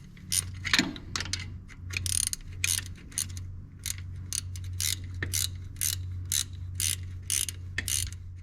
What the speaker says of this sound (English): I'm going to tighten down the top bolt first,